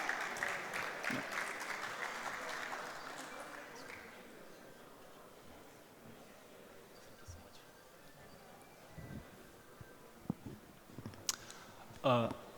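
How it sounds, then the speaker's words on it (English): Applause from the audience at a semiconductors and special materials conference session opens fairly strong, then fades away within about four seconds, leaving a quiet room with scattered clicks and small knocks. "can we all give a huge round of applause for Mr."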